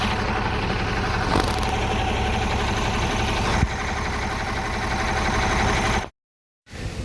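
A 4000 cc car engine idles close by in a steady, even rumble with no talk. The sound cuts out briefly near the end before resuming.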